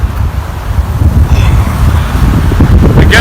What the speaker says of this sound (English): I have to find place with some kind of a windbreak, so I hope when I get into the forest there will be no wind